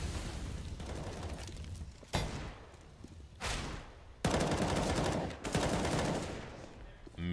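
Counter-Strike gunfire on the Mirage map during a match, with several sharp rifle bursts and sustained automatic fire punctuating a quieter stretch, loud and close in bursts.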